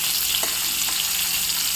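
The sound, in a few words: cauliflower frying in oil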